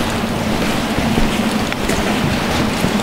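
Water rushes steadily and loudly through a tunnel 1500 metres deep in the Ötztal, a dense continuous roar with faint wind-like hiss and no pauses, heard up close.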